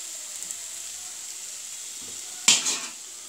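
Vinegar poured into elephant apple pickle in a pan, giving a quiet steady hiss and then a short burst of sizzling and stirring scrape that fades over about a second.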